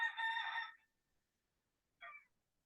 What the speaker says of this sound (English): I shared the rooster singing at no extra cost.